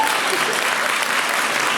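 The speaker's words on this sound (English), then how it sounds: "I would applaud that." Audience applause during a live fireside chat event, a dense, even burst of clapping lasting under two seconds, loud and close.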